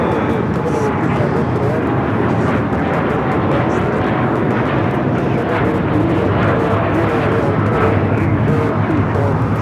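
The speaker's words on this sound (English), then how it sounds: "The flight to Tokyo Haneda now taking off here on the south side." A jet airliner on a Tokyo Haneda flight takes off from the south side of LAX, a loud, sustained roaring engine rumble that holds steady throughout, with a voice talking over it.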